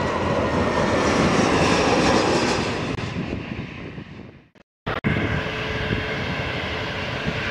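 Airplanes taking off and landing at Lisbon Airport: a loud, broad roar of aircraft engines that swells and then fades away, followed by a brief gap before another engine roar comes back in.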